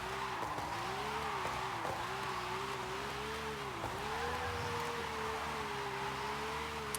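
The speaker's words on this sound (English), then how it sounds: "Out here, we can just listen to the car and the tires." A 1991 Toyota Chaser GT twin-turbo's engine drones steadily while its tires squeal and skid continuously in a drift, wavering in pitch, heard from a moderate distance without voices.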